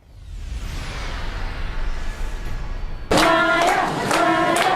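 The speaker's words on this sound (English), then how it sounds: "Heartfelt applause and cheers for this little hero" A hospital crowd bursts into applause and cheers for a young shooting survivor. A dense wash of clapping and cheering comes in suddenly after a stretch of rumbling background noise and carries on loud and close.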